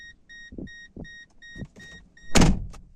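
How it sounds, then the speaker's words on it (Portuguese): A 1990s Mercedes-Benz C 250 Turbodiesel (W202) headlight-on warning chime pings repeatedly in a quick, even rhythm with the door open, accompanied by soft thumps and ending with a louder door-like clunk. "Se você deixar o farol aceso, sem a chave do carro estar no contato, e abrir a porta, você ouve esse barulhinho"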